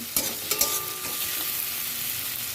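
Onion, garlic and green chilli frying in a pan open with a few sharp stirring clinks, then settle into a steady, close sizzle with no talking.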